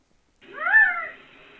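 A human voice imitates a quail call with a single clear, close note that rises and then falls, heard alone after a brief silence.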